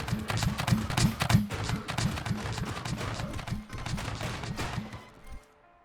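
Gunfire in the survival game Scrap Mechanic, modded: a steady, rapid rhythmic stream of shots with a thumping repeating beat, loud and close, lasting several seconds before cutting off abruptly.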